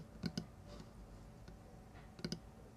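A computer mouse clicks quietly in two quick pairs a couple of seconds apart, with a few fainter clicks between them and no talking.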